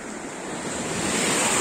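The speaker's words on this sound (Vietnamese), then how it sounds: "Úi xời, có một con sóng tung bọt sóng." A sea wave breaks with spray on the beach at Kỳ Xuân, Kỳ Anh, Hà Tĩnh, a close, loud rushing wash that builds steadily over a second and a half amid wind, with no voices.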